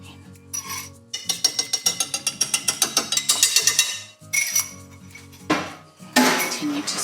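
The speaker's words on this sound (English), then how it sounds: "Continue to stir that because we don't want an omelette." Beaten whole egg and yolk being stirred into a cheesecake mixture in a bowl, with a run of quick, rhythmic clinks and scrapes of the utensil against the bowl, close and fairly loud, with no talk.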